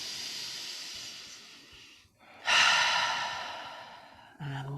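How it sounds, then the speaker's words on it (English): A deep yoga breath drawn in, then released, during a Kundalini warm-up: two soft airy hisses of inhaling and exhaling, close and quiet, separated by a brief pause, with no talking. "and again breathing in"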